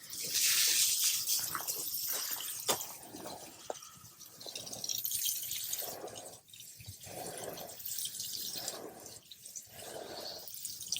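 Water pours from a watering can or hose over a seedling tray in quick passes. The steady, hissing splash swells and eases in several uneven bursts, close by and fairly loud, with no talk.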